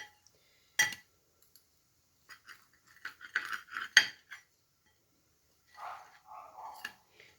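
A knife clicks and scrapes against a plate or board while a cooked makki spring onion masala roti is cut into pieces, with sparse sharp taps and short scraping strokes in an otherwise quiet kitchen.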